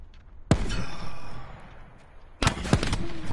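Video game gunfire: a heavy blast followed by a rumbling tail, then after a short lull a second pair of sharp shots, loud and close.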